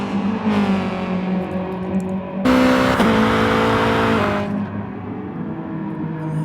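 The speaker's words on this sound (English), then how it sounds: "The bark from Rafael's car." Race car engine in Gran Turismo Sport at Interlagos, a sustained loud revving drone with harmonic whine that surges into a harsher, brighter bark midway before settling back, no talk.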